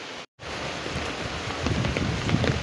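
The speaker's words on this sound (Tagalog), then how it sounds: "Yan na naman ang makapal na ulan." Heavy rain pours steadily during an afternoon fishing trip with nets, a dense continuous hiss broken by a brief dropout near the start, then swelling slightly louder with scattered drops.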